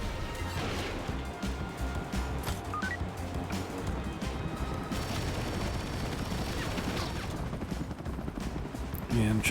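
Rapid bursts of helicopter gunfire spray in the Agent Intercept video game, a dense, continuous barrage of crashes and shots with mechanical noise underneath, loud throughout.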